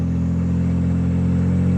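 BMW 335i wagon engine running with turbo noise, a steady loud drone with strong low harmonics held evenly throughout, close up from inside the car.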